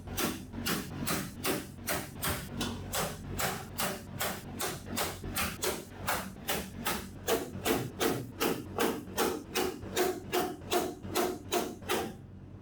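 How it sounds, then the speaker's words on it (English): Steady, evenly spaced hammer blows on a center punch marking spot welds on the battery apron of a 1966 Mustang, about two strikes per second, close and metallic, continuing for the whole stretch. "I have all the spot welds center punched."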